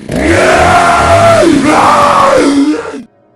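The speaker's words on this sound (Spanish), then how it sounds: "el diabólico asesino que nos aterra con sus gritos de rabia listo para acabar con nosotros" Dr. Salvador, the chainsaw-wielding villager in the Resident Evil 4 video game, lets out a loud, sustained guttural rage yell lasting about three seconds before cutting off abruptly.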